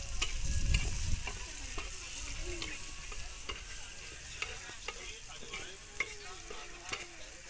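Onions fry gently in a pan for kurdu leaf bhaji, giving a soft, steady sizzle with scattered clicks and scrapes of stirring and a louder burst near the start.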